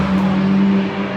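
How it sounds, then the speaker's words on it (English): A loud, sustained engine drone of a race car passing during NLS qualifying at the Nürburgring, with a steady low hum throughout a brief moment. "the sound of cars racing around, setting times for qualifying for the NLS race"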